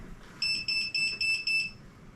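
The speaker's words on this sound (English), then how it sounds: "What's beeping? Oh, the meter turned off." An electrical meter beeping as it powers down during a bathroom remodel, five even high-pitched tones in a steady rhythm, clear and close over a quiet room.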